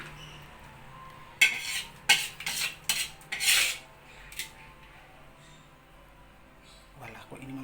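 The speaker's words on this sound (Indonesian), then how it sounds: "saya taruh di piring sardennya" Clattering of cutlery and dishes as sardines are served onto a plate, several sharp bursts of scraping and clinking in quick succession, fairly close, then quieter background.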